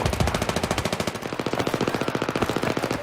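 Automatic gunfire from a new gun in a Battlefield 3 multiplayer match, a fast, steady stream of close, loud shots lasting the whole few seconds.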